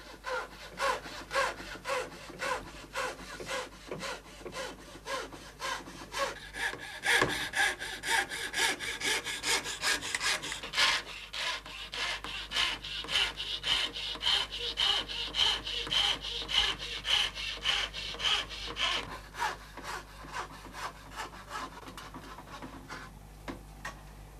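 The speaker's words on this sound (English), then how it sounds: "It's on another old machine called a donkey that the sawing itself takes place." Steady, rapid rasping of a fine saw cutting through thin wood veneer on a marquetry donkey, the strokes repeating evenly and continuously at close range.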